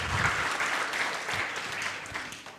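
A church congregation gives a lively round of applause during an online worship service, a sustained, fairly soft wash of many clapping hands that stays even before easing off near the end.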